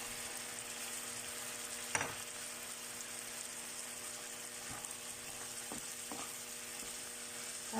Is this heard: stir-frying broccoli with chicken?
yes